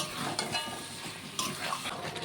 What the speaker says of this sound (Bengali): মশলার সাথে আলু সুন্দর করে কষিয়ে রান্না করে নেব